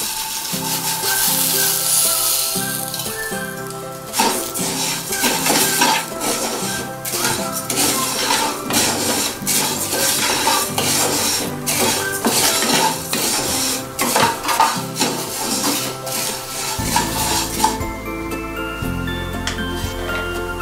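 Puffed rice and cashews are stirred and roasted in a pan over low heat for a spicy pori arisi mixture, with repeated scraping and metallic clinks of the utensil under steady background music.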